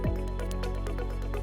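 Water from a garden hose floods a carbon filter tank and flushes the carbon media out, making close wet squishing and dripping sounds in a steady, loud run.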